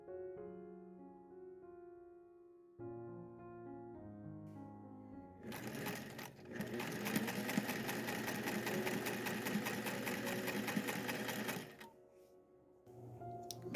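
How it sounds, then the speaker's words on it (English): Sewing machine running a long continuous stitching burst along a seam of a scrappy fabric apron, loud and close, with soft tonal background sounds before and after. "I've got to tuck that under and run another seam along there."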